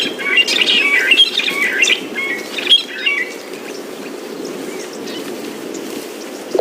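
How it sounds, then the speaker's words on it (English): Drongos and oxpeckers call busily on a safari drive, a dense run of chirps and whistles that is loud at first and then thins out over a steady low background rumble. "The drongos are making plenty of noise. And so are the oxpeckers."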